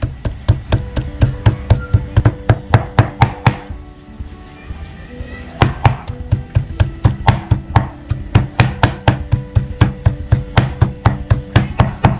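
A knife chops raw beef rapidly and rhythmically on a cutting board, sharp close thuds in steady runs with a brief pause in between.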